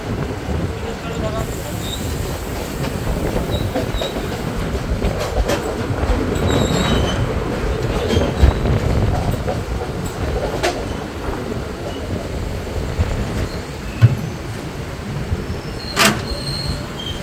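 Kolkata special fare train pulling into Dakshineswar station, heard from inside a second-class coach: a continuous rumble of wheels and carriage noise with scattered clanks and brief squeals, and people's voices faintly mixed in.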